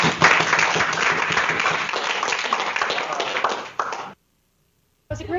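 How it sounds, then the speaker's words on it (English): An audience at the University of Arizona claps to welcome a group of speakers, a dense, loud round of applause lasting about four seconds, then a brief silence before more sound resumes. "It was a great round of applause to welcome us."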